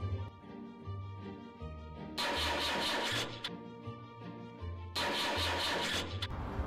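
A car engine in the Scary Teacher game cranks but fails to start, two loud broadband bursts of about a second each over a steady low game-music hum, with no talk.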